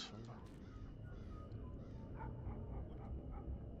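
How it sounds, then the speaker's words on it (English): A dog barks in the stealth video game Thief Gold, faint and brief yelps set against quiet game ambience with other creature noises mixed in. "That was a dog."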